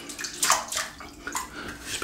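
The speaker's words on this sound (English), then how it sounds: "Just put some water in there." Water splashes and gurgles briefly as it is poured into a shaving bowl for lathering, close and moderately loud with no talk over it.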